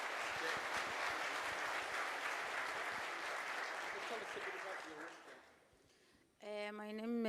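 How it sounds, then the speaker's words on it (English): A crowd at a livestock trade event in Dubai applauds a welcomed chef, loud sustained clapping that fades out, then a voice starts speaking. "Round of applause."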